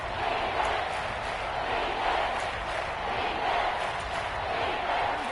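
A stadium crowd in a video game football broadcast gives off a dense, steady roar and cheer, loud and continuous with slight swells and no clear voice on top.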